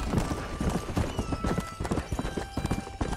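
Rapid hoofbeats of a galloping horse in the video game Red Dead Redemption pound in a fast, steady rhythm, loud and close, with a faint whinny underneath.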